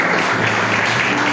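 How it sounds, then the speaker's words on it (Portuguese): A church congregation claps together at an evening worship service, a dense, even burst of applause sustained throughout the short moment with no voices over it. "Você pode aplaudir ao Senhor?"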